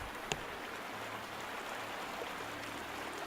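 River water flows in a steady, soft rush in the Outlast II horror game, with a single faint click early on and no voices.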